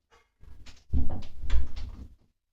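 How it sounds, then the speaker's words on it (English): A room door is pushed shut indoors, producing a couple of close thumps and rattles over about a second and a half, with no talk. "Need to close the door."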